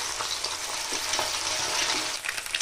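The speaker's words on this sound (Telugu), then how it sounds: "ఇప్పుడు ఎగ్ వేసుకొని ఫ్రై చేయాలి।" An egg fries in hot oil in a pan while egg noodles are being made, giving a steady, dense sizzle with faint stirring scrapes throughout.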